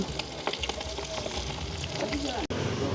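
Pieces of meat frying in oil hiss with a steady sizzle and a few light clinks as they are turned, with soft voices in the background and a short dropout near the end.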